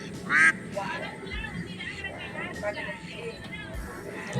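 Several ducks quack nearby on water over a soft background of outdoor chatter, with a loud burst of quacking early and scattered calls afterward.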